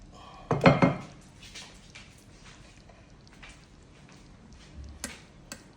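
Serving green beans bredie from pots onto a plate, with a loud clatter of a utensil against cookware near the start, then quieter scraping and clinks and a final pair of light taps.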